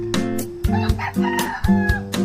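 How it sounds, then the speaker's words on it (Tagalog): Roosters crow loudly and close by on a farm in Iloilo, several overlapping calls in quick succession with harsh, strained tones. "yung mga manok"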